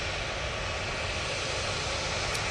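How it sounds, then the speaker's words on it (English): A Ryanair airliner approaching to land at Manchester Airport gives a continuous even engine roar, faint but unbroken, with no voices over it. "Ryanair coming on in front of us now."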